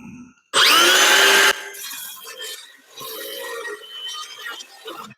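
A saw cuts wood freehand for a sparrow nest box: a loud, harsh one-second burst of cutting, then quieter intermittent rasping and light clatter close by.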